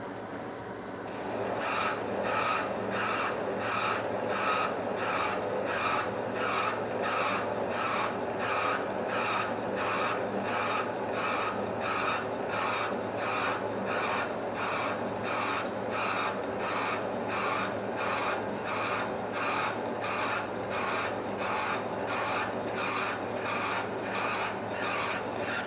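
A metal lathe taper-turns a steel piston rod for an A.D. Baker steam traction engine, giving a steady rhythmic cutting rasp with regular pulses and a motor hum underneath, continuous for the whole stretch.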